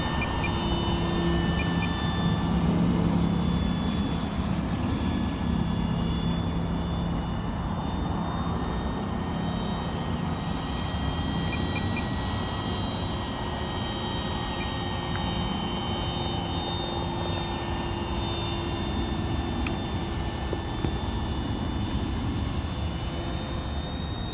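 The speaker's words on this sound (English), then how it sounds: "This is the maiden flight of the Tundra, so the first couple of passes are just simple trimming passes." Avios Grand Tundra Plus electric RC model airplane, a 1700 mm EPO sports model on its maiden flight, making trimming passes overhead: a steady, sustained motor and propeller whine with a faint tonal hum, fairly constant in level throughout, no talk.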